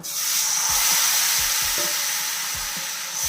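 Appam batter is poured into a hot pan and sizzles loudly and continuously, a dense close-up frying hiss with faint soft knocks from the pan beneath it.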